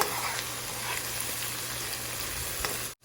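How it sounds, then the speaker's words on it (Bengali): Spices, onion and garlic sauté together in a pan for a fish kalia, producing a dense, continuous sizzle with faint stirring scrapes before it cuts off abruptly. "এবার হচ্ছে সব মশলা একসাথে ভালো করে কিছুক্ষণ কষিয়ে"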